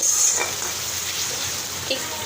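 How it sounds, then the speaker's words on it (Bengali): Close, steady sizzling of frying spices as they are stirred, with a couple of soft scraping strokes. "মশলাটা ভালো করে আমি কষিয়ে নিচ্ছি"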